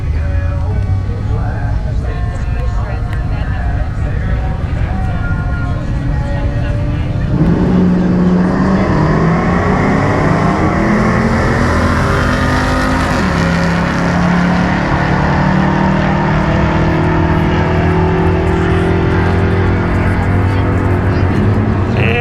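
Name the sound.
drag racing cars, Firebird and Challenger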